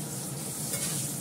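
Ingredients for a Bengali fish curry fry in a pan, a soft steady sizzle with faint stirring, quiet and close.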